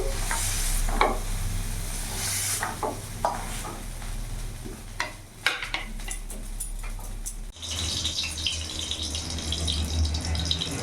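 Eggplant fries in oil in a kadai wok, sizzling steadily while a spatula scrapes and stirs in irregular strokes; partway through, the sound shifts to a brighter, running-water wash.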